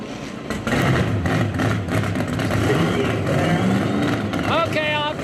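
Nitrous-equipped Pro Modified drag car during a qualifying run at Darlington Dragway, a continuous loud engine roar over several seconds, with an announcer talking over it.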